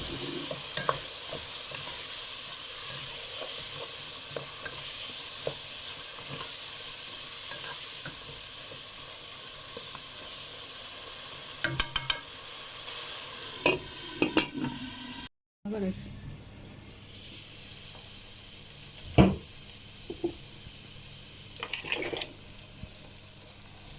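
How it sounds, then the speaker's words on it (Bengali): Tomato and onion paste with spices is stirred and sautéed in a pan for a meatless paneer biryani, with steady frying sizzle and hiss, scraping spoon strokes, and a few louder clatters near the end. "সমস্ত উপকরণগুলো ভালোভাবে মিশিয়ে এখন শুধু কষিয়ে নেওয়া পালা প্রায় ছয় সাত মিনিট ভালোভাবে কষিয়ে নিলে হবে"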